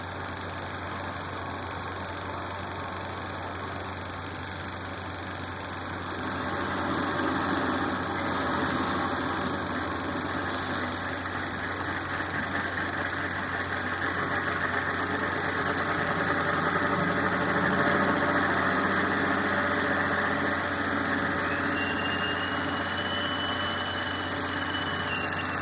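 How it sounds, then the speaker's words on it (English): A small steam engine drives a tiny electrical generator by a belt, making a continuous, even mechanical hum and rumble that holds steady at moderate loudness for the whole stretch, with no talk over it. "The steam makes the engine run. A belt connects the engine to a tiny electrical generator."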